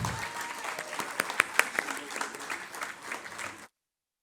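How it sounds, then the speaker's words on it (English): Applause for award recipients at an anniversary event, a crowd clapping with several sharp, loud claps up close before it stops abruptly into silence. "have a huge round of applause for them."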